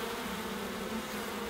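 Bees stirring back to life after CO2 treatment make a steady, dense buzzing hum that holds at an even level throughout, close and moderately loud.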